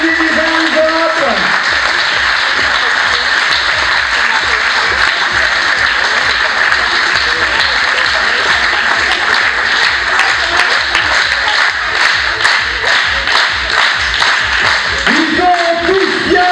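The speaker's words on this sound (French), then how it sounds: "On peut applaudir, ils vont se congratuler les uns les autres." Sustained clapping from an audience at an improvisation theatre festival, steady and fairly loud throughout, with a voice speaking over it at the start and end.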